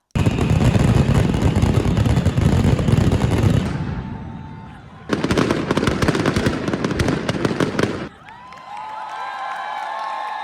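Firecrackers at the Fallas festival in Valencia, Spain, burst in loud rapid volleys of dense crackling, pausing briefly between barrages, with a crowd audible during the lulls.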